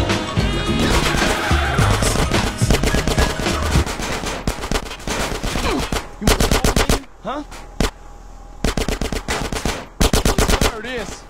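Gunfire in the video game GTA San Andreas: rapid automatic bursts and loud repeated shots in clusters, with short pauses between volleys and bits of game dialogue mixed in.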